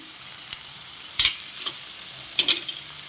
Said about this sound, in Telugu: అలాగే మెంతులు జీలకర్ర చక్కగా వీటిని అయితే ఇట్లా వేయించుకున్నామండి